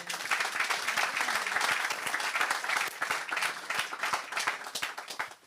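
A church congregation claps loudly and steadily throughout, dense applause with scattered cheers, close and continuous without a break.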